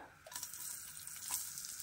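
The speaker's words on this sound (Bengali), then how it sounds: "দিয়ে দিচ্ছি এই তেলেই একটা তেজপাতা ফোড়ন" A bay leaf sizzles in hot oil left over from frying flattened rice, a close, steady crackling hiss with a few sharper pops, heard alone throughout.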